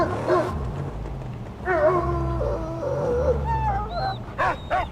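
A dog whimpers and yips in the Mad Max video game, with a run of drawn-out whines and a few sharp yelps over a low rumbling engine drone.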